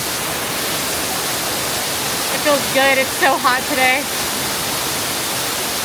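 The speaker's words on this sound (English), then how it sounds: "This is the waterfall in Canada." Steady, loud broadband rush of the waterfall at the Canada pavilion in EPCOT's World Showcase, continuous and close, with a person talking briefly over the roar partway through.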